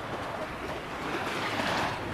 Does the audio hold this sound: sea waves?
yes